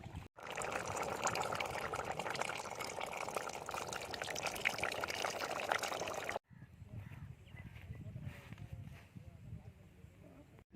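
Tamarind water pours into a simmering dried anchovy curry, a continuous splashing rush for about six seconds, then softer bubbling and stirring.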